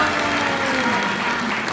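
A crowd at a political book launch event applauds Kang Min-gu, a loud, steady and dense wash of clapping that stays even throughout its short span with a faint tonal hum underneath.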